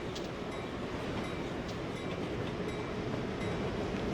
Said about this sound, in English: The train is still going, isn't it?